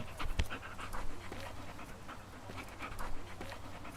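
A dog panting in the video game Teardown, quick rhythmic breaths repeating steadily at moderate loudness, close by, with no talk.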